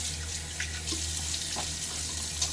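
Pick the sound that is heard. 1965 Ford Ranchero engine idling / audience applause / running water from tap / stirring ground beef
running water from tap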